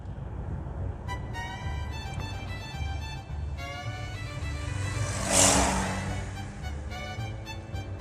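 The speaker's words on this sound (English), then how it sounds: "Occasional car will come by." A single car drives past on a quiet mountain road in the Smoky Mountains, its engine swelling to a peak midway and then fading, while birds chirp steadily over a low background rumble.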